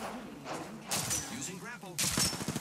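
Rapid gunfire from Apex Legends gameplay comes in two loud clattering bursts, the second denser and more sustained, close and harsh, mixed with other game sound effects.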